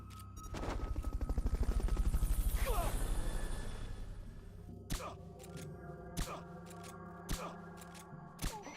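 Helicopter rotor chopping builds and fades over several seconds in the video game Metal Gear Solid: Peace Walker, followed by a string of sharp metallic clanks at irregular intervals.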